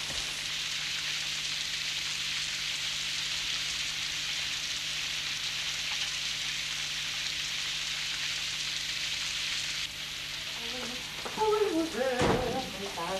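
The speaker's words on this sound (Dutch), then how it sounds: "Het kletst regen." Heavy rain pours down steadily in a broadband hiss that stays even for about ten seconds, then thins slightly as a brief clatter and a faint voice-like sound break in near the end.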